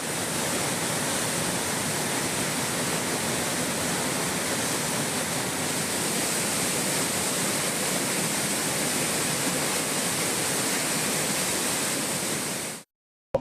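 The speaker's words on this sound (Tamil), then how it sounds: "குற்றால அருவிகளில் வெள்ளப்பெருக்கு ஏற்பட்டுள்ளது" Courtallam waterfall in flood after heavy rain, a dense, loud, unbroken roar of rushing water that holds steady throughout before cutting off abruptly at the end, with no voices.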